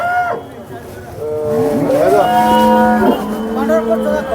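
Khillar cattle moo loudly and close by at a cattle market in Sangola, a long drawn-out low bellow with other animal calls and voices nearby.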